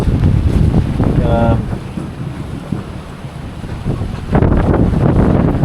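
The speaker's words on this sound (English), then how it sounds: "So yeah, here comes the rain." Strong wind buffets a boat at sea as rain arrives, a loud, continuous roar with gusts that ease and then surge again.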